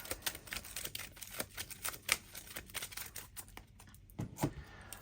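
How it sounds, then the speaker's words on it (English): Marvel Champions game cards are shuffled close by in quick, crisp flurries of papery clicks with brief pauses between bursts. It is quiet overall, with no voices. "Shuffle real quick."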